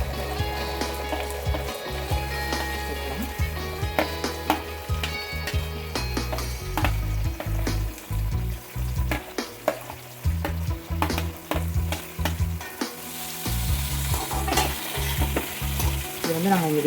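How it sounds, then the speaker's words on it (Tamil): Onions frying in oil with garlic in a pan while cooking a Tamil anchovy fish curry, a constant sizzle broken by frequent clattering stirs and scrapes, close up with no voices. "வெங்காயம் சேர்க்குறேன்"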